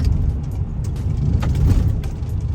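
A truck rumbles steadily over loose gravel, with a low engine drone and crunching, rattling gravel noise beneath, continuous and fairly loud, with no talking.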